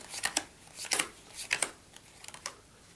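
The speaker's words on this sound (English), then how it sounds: "You deal their cards on top of spectator number one's cards." Playing cards are dealt one by one onto a pile on a table, giving a series of soft, crisp slaps and brushing flicks in an irregular rhythm, close and quiet.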